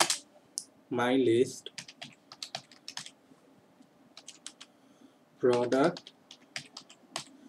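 Computer keyboard keys clack in irregular bursts as code is typed, close and fairly light, with someone speaking briefly twice between the runs of keystrokes.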